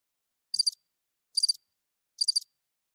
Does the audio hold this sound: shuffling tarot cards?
no